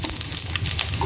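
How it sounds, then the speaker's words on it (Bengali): Cumin and radhuni seeds sizzle in hot oil left from frying fish, a brisk close crackle with tiny pops throughout. "মাছ ভাজার তেলের মধ্যে আমি জিরা রাঁধুনি এটা"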